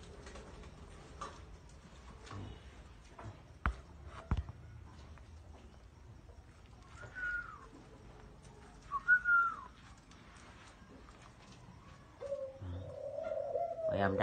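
Parent Thai pigeons coo in a breeding loft in Nam Dinh, Vietnam, a few soft low coos and whistly calls rising out of quiet clicks and shuffling, near and moderately faint, with no talk.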